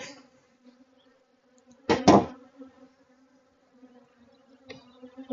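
Honeybees hum steadily at a hive during queen rearing, a continuous buzzing drone with a brief loud thump in the middle and a softer knock later.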